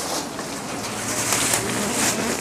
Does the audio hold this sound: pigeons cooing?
yes